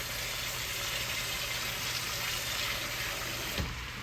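Water is poured into a stew pot of leftover prime rib and vegetables, giving a steady rushing splash throughout with a brief clunk near the end and no voices.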